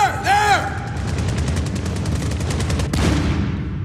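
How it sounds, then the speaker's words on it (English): Rapid automatic AK rifle fire in the Medal of Honor video game crackles in a fast steady burst, with a sharper shot near the end and a short whistling sound at the start. "That is an AK fire."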